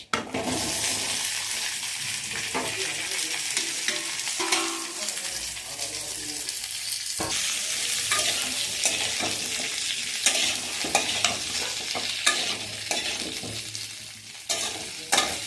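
Fried vegetables go into a pan of neem sukto with radhuni and are stirred through a steady loud sizzle, with frequent spatula scrapes and clacks close by. No voices are heard.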